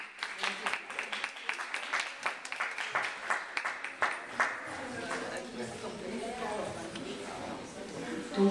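Audience applause for an invited Taiwanese author at a talk at the Centre Pompidou: dense, steady clapping from a room of people for several seconds, gradually thinning out near the end.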